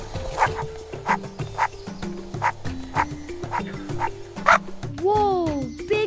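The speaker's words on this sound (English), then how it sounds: "It's a dog!" A dog barks in a regular series of sharp, evenly spaced yips over light stepping background music, ending with a rising and falling whistle-like sweep.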